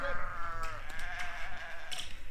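A sheep bleats loudly nearby, a wavering drawn-out call, followed by softer outdoor noise.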